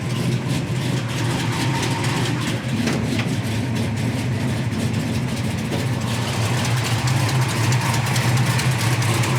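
A 1973 Dodge Challenger with a 440 stroker V8 and MSD ignition idles steadily on fast idle around 1,000 RPM, its deep, even rumble filling the whole stretch with no talk over it.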